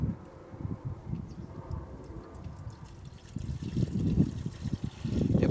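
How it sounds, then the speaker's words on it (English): Premixed screen wash trickles from a bottle into the washer reservoir of a Ford Mondeo MK3, a soft continuous pour with gurgling surges that grow louder toward the end, close by and without speech. "So I'm just going to stick a bit of a screen wash in here."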